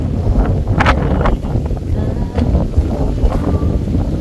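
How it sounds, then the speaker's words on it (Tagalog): Strong wind buffets the microphone in heavy, roaring gusts, with faint background sounds underneath. "lakas ng hangin dito guys"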